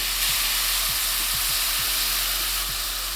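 Dry white wine hits risotto rice in a hot pan with a loud, steady sizzle and hiss, joined by a few soft scraping stirs, close up and without talk.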